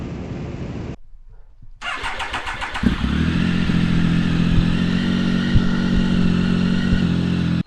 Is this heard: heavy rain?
no